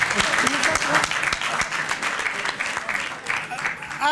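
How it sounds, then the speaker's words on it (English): Audience clapping at an in-person policy talk on growth in South Africa, a steady dense wash of applause filling the whole stretch with some voices mixed in. "They are clapping."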